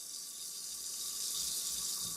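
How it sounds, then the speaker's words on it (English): Tap water runs steadily into a sink being filled for soaking the milk system parts of a Gaggia G150, a continuous hissing gush with no talk. "So now, fill the sink with water, pour your detergent in it."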